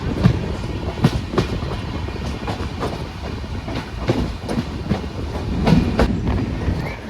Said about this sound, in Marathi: जनशताब्दी आहे क्रॉसिंगला तुम्ही बघू शकता ही आपली सकाळची जनशताब्दी